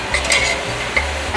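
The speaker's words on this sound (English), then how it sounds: "With making a dry caramel, you need to stir consistently to avoid it burning." Dry caramel being stirred in a pan, a short scraping stir with faint sizzle, close and moderately loud with no talking.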